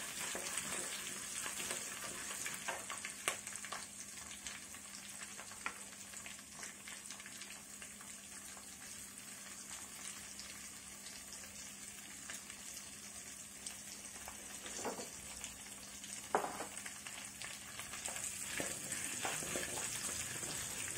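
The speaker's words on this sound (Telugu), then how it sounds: "పోపు గింజలు వేస్తే బాగా యాగనివ్వాలండి." Tempering seeds fry in a little oil in a kadai as the first step of a mushroom curry, giving a steady, soft sizzle that runs throughout with occasional brief crackles and pops.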